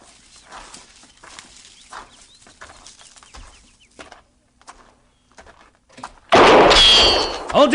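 A sharp, loud gunshot fired from a hut in a radio drama bursts out after a quiet stretch of faint rustling and clatter, then rings and decays briefly.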